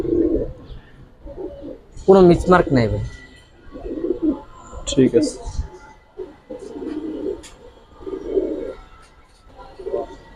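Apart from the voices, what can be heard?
giribaz pigeons cooing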